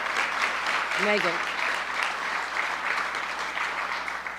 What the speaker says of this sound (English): let's give a round of applause to our new friend